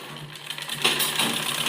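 A sewing machine stitches a strip onto a baby frock, a short close burst of fast mechanical whirring that starts quietly and gets louder after a brief pause.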